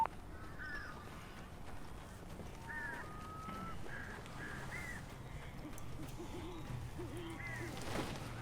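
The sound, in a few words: birds cawing in the video game Alan Wake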